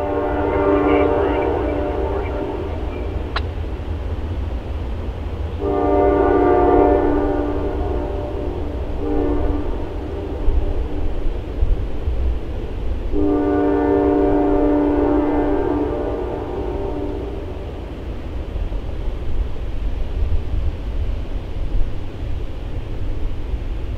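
A South Shore freight train passes in Chicago on a sunny October evening: a steady rolling rumble throughout, broken by three loud, long horn blasts.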